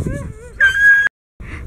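Dogs at a dog park, including a Malamute Husky mix puppy, give close, loud whimpers, yips and a drawn-out whine in short bursts, broken by a brief silence.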